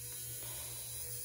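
Kupa MeFile electric nail drill running alone, a quiet, steady hiss over a constant low electrical hum, with no talk.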